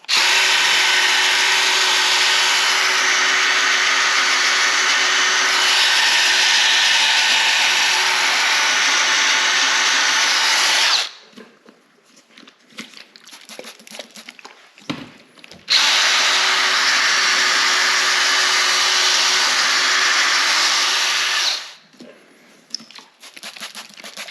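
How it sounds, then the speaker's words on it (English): A power drill on a low setting whirs loudly and steadily for about ten seconds while polishing a headlight, stops briefly, then runs again at the same even pitch before cutting out. "low setting on your drill is good enough."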